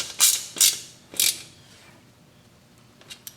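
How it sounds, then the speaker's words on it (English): A ratchet tightens the exhaust pipe clamp on a Yamaha YZ125 two-stroke dirt bike, three short bursts of quick clicking close up, then near silence with faint metallic touches. "Crank this one down first, the one on the pipe"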